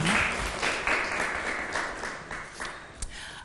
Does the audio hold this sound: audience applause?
yes